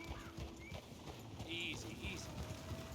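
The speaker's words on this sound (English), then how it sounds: "That moving horse." Horse hooves clip-clop in a steady rhythm in a video game, moderately soft and mixed with game sounds and chimes while someone talks over them.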